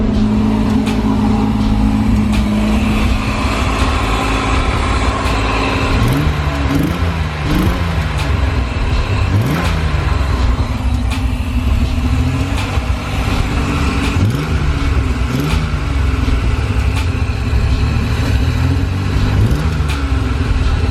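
A car engine runs loud and steady at a raised idle near 3,000 RPM on a cold day, its pitch rising and dipping in periodic surges throughout.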